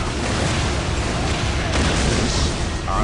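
A grenade going off in the real-time strategy game Dawn of War, heard as a dense, loud rumbling roar that fills the whole short stretch with no clear single onset.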